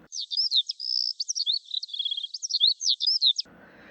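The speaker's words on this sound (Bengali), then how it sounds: "পাখির ডাক মনকে উতলা করে তোলে।" A single bird gives a quick run of bright, high warbling and chirping notes, clear and close, beside the Ichamati river at Mangalganj in Nadia. The song stops abruptly and only a faint low rumble follows.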